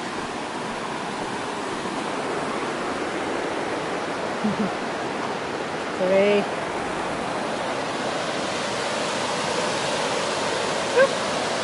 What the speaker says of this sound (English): I'm gonna get a bridge over this big river.